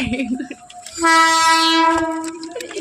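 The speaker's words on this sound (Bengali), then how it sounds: "সামনে থেকে যখন ট্রেন আসছে" An approaching train on a railway line blasts a loud, sustained horn for about a second, close by, with surrounding noise before and after.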